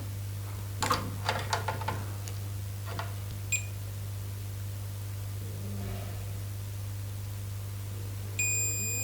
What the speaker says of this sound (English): you can hear a beep sound that says that this jumper wire is working